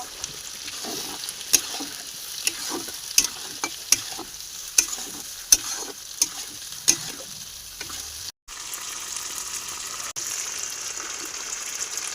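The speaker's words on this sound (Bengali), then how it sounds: "আলু ভাজা হচ্ছে, পেঁয়াজ ভাজাটা অনেকটাই দিবার ঝোলে" Potatoes and onions sizzle steadily in a pan, with repeated scraping clicks of a spatula stirring at an irregular rhythm; a brief gap near the end.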